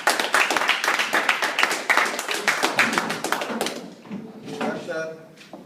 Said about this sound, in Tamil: எல்லாம் கரங்கள் உற்சாகமா தட்டுங்க.